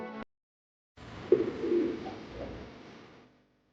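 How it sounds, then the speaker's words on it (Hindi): Pigeons coo softly at a quiet mountain temple in Chitkul, Himachal Pradesh, a few low murmuring calls close by after a brief sound and a pause, with no talking. "ये कबूतर।"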